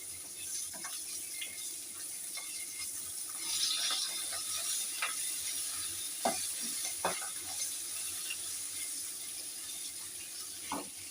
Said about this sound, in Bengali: আমি একটু কড়া করে মাছটা ভেজে নেব, মাথাটা